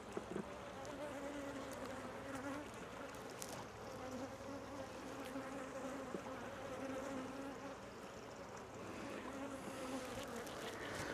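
Dense, steady buzzing of many bees at a backyard beehive, a continuous close drone that holds throughout without pause.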